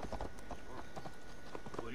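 Horse hooves clip-clop in a steady rhythm on a road in the video game Assassin's Creed Valhalla, heard at moderate distance beneath ongoing character dialogue.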